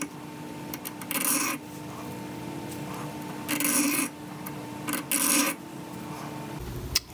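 A hand file rasps across the end gap of a piston ring for a Datsun 240Z engine in short, loud bursts of scraping strokes, separated by quieter pauses with a faint steady hum behind.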